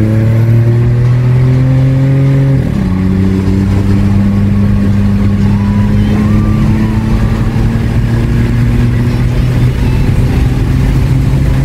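A VW Polo TSI car engine pulls hard on a highway, its steady rising drone broken by a quick gear change early on before it climbs again, loud and continuous with no talking.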